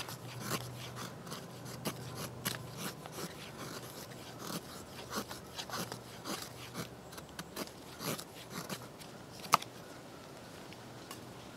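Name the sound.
knife shaving down wood for fire fuel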